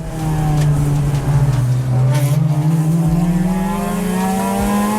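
Race car engine roaring loud and close throughout an endurance race at Clark Speedway, a steady high drone rising and falling in pitch as the car accelerates and shifts while chasing a Honda Civic, with brief tire noise.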